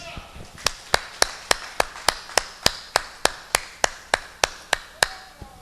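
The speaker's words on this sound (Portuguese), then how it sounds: "A igreja diz, aplauda o Senhor em nome de Jesus" Slow, steady claps ring out one after another, about fifteen sharp evenly spaced beats filling a church congregation's service, each strike crisp and close with a brief decay.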